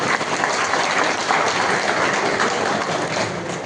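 An audience at a TVK party booth agents' meeting in Sivaganga gives sustained, dense applause, a steady, even roar of many hands clapping together with no voices standing out.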